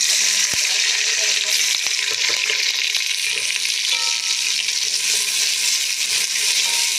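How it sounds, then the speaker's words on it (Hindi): Cumin seeds tempering in hot oil for a tadka, a steady loud sizzle and crackle with occasional stirring clicks throughout, a voice faintly audible beneath. "इसमें थोड़ा सा जीरे का तड़का लगाएंगे, फिर हम इसमें प्याज शामिल करेंगे"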